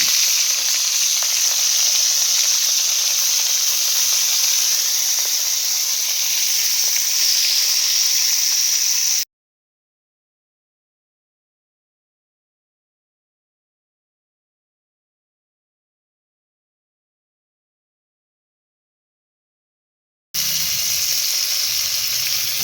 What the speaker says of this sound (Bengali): তো মাথাগুলো ভাজা হয়ে গেছে।